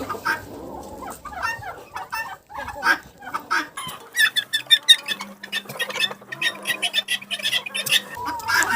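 Domestic turkeys, hens and a tom, calling repeatedly in a flock with rapid clucks and chirps, close and fairly loud, with a steady low drone through the middle.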